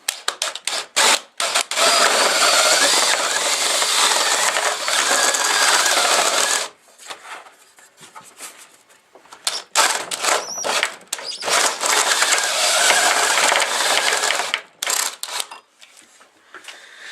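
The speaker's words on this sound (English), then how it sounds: "let's get this drilled out" A handheld drill bores a hole for an RTL-SDR external antenna mount in loud buzzing bursts, with long stretches of steady grinding broken by short pauses and stop-start pulses.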